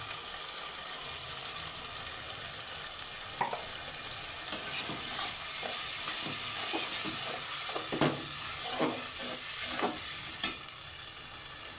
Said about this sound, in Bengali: মশলাটা ভালো করে কষা নিতেছে